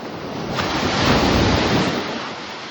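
Sea surf washes onto a beach in a single swelling rush, building and easing over a few seconds, with wind buffeting the microphone.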